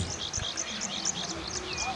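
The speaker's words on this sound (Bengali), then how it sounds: "প্রতিটা পাখির ডাক স্পষ্ট অনুভব করা যাচ্ছে" Several birds chirp and call in a quiet rural landscape of palash trees and open fields, with bright repeated tweets over a faint steady insect hum and low background rumble.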